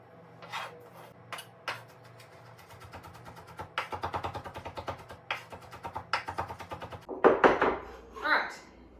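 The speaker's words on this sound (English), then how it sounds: "Garlic is minced up as much as it's gonna get." Rhythmic chopping and scraping of a knife mincing garlic on a cutting board for gumbo, bursts of quick taps separated by pauses, close and moderately loud, with a person talking in between.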